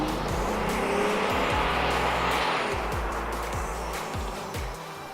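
A Nissan Xterra V6 engine roars loud and near, a broad rushing drone with low rhythmic pulsing that slowly fades slightly over several seconds, with no talking over it.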